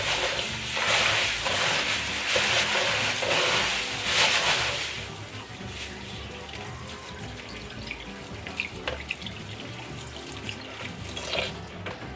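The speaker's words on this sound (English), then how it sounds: "Now we're going to pour out the unnecessary water." Water is poured out of a perlite-filled plant propagation box. A strong splashing pour lasts several seconds, then eases into a quieter trickle and drips.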